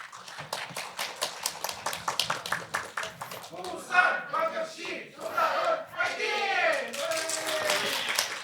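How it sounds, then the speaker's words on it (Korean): An audience at a public-sector HRD contest final claps in a dense burst of applause that fades as a voice takes over and talking continues over the remaining crowd noise. "여러분 큰 박수 부탁드립니다."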